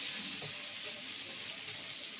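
Chunks of paneer fry in oil in a home kitchen, giving an even, close, hissing sizzle that holds steady without breaks.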